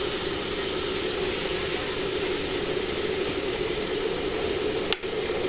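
A steady roaring, hissing rumble of water at a full boil in an electric kettle, constant throughout, ending with a sharp click as it switches off near the end.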